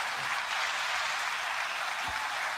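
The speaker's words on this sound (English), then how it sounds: "9-second applause" Audience applause greeting a guest host on a hip-hop debate show, a dense, steady wash of clapping that holds at an even level throughout with no voices over it.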